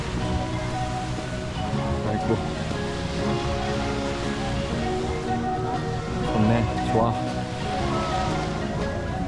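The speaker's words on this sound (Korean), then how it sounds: "파도 소리" Ocean waves wash steadily onto a beach in Bohol, Philippines, a continuous near roar with a man's brief remarks over it.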